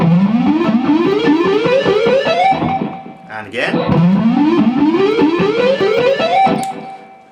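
Fast distorted electric guitar legato climbs in repeating rising chromatic patterns, loud and close, with a brief pause and a few spoken words midway.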